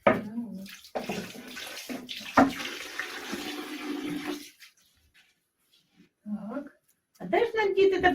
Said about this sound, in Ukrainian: нам треба вимити діжу, де тісто місили на коровай